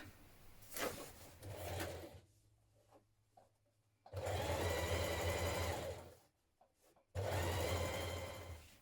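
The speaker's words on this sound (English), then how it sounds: "bringing right sides together, we're going to stitch the underarm seam" Bursts of close sewing machine stitching along the underarm seam of a vintage-style coat, three separate runs of fast rattling needle action broken by quiet pauses where the motor stops, with no voices.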